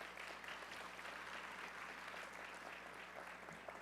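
A school-event audience applauds for high school students at a Detroit civic luncheon, steady dense clapping heard from a distance at low level throughout.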